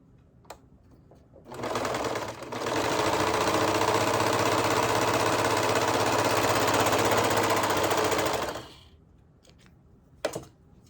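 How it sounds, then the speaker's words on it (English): A serger overlock machine sews knit fabric layered with power net, starting up after a short pause and running in a loud, steady, fast-stitching hum for about seven seconds before stopping, followed by a brief clack. "So I'm going to go ahead and serge that."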